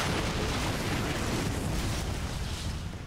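A loud, sustained rumbling roar of an explosion in Far Cry 3: Blood Dragon, dense low-end noise that holds steady for about three seconds before easing slightly.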